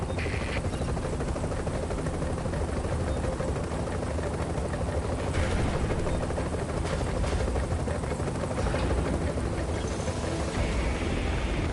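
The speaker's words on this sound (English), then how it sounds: "actual chopper came down." A helicopter in the video game The Division hovers and lands, its steady loud rotor wash and engine roar filling the scene continuously without pause.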